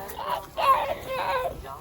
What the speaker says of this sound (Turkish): Bak burada da tavuklar var.